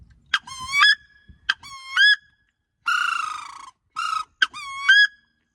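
A voice imitates the call a wood duck makes on the water, a series of rising squealing whistles and one harsher, buzzier note, irregularly spaced, loud and close, with brief breathy sounds between calls.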